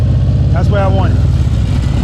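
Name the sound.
motorcycle engine during slow-speed clutch control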